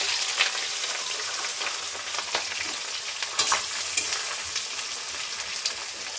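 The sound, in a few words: whole tomatoes and onions frying for chicken curry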